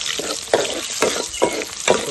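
Onions frying in hot oil for a Telugu-style mattagidasa fish curry, stirred in four regular scraping strokes about every half second over a steady close sizzle.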